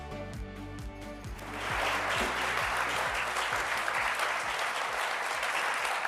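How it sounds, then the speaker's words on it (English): An audience bursts into applause for chef José Andrés at a book club event; a low musical sting plays first, then dense, loud clapping swells in and holds steady to the end. "Stop clapping."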